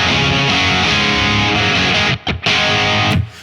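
A Stratocaster electric guitar played through a small, loud amp rig with full brightness, giving a sustained, distorted tone that rings loud and alone, cut by two brief gaps near the end.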